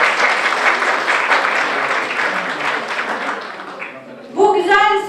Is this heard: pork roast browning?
no